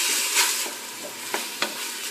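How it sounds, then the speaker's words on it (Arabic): Onions frying with spices in a pan, a steady close sizzle broken by a few sharp scrapes and knocks of a spoon stirring, with no talk. "متوقفوش على التحريك باش ما تحرقش لينا البصل"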